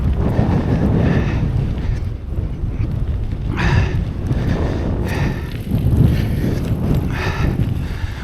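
Wind gusts buffet the rider during a cold coastal gravel bike ride along the Lincolnshire coast, a steady loud roar with surging gusts and no talking.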